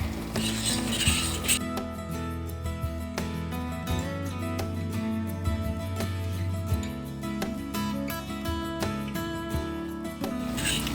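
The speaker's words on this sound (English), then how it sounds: "take a fork here quickly. Whisk this in." Cake frosting being whisked with a fork in a pan on a stovetop, rapid rhythmic metallic scraping and clinking of tines against the pan, steady and close, with a faint sizzle underneath and no talk.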